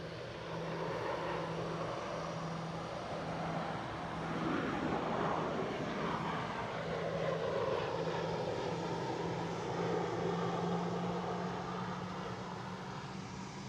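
WestJet airliner passing by at Edinburgh Airport, a moderate jet engine rush that swells around the middle and fades, with a faint steady hum underneath and no talking.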